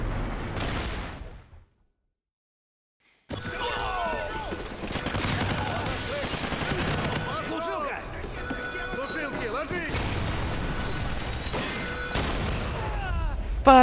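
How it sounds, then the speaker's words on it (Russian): Gunfire rings out in the PC video game Call of Duty: Ghosts, repeated shots and bursts across a busy battle soundscape, broken by a brief silent gap, with someone talking over it. "Стреляют тут."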